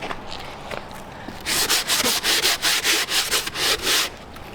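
Wood being sanded by hand: after a quieter start, about ten brisk back-and-forth rubbing strokes follow in a steady rhythm, close and loud, with no voices.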